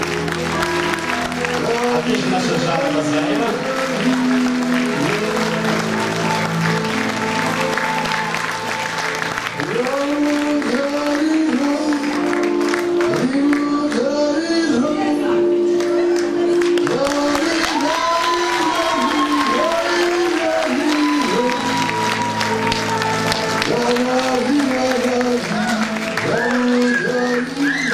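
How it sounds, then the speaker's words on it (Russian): An audience applauds a children's dance troupe's folk medley performance with sustained clapping and some cheering from a crowd, while a host speaks over it and music plays beneath. "Аплодисменты, Никиша, аплодисменты великолепно."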